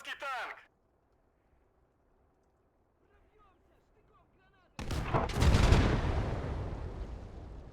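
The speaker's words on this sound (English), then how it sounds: "I could bet that I could hear like a secondary explosion." In the World War II game Gates of Hell, a short crack opens the scene, followed by near silence with faint distant noises. Then a heavy, loud artillery blast erupts and rolls on as a long rumbling explosion.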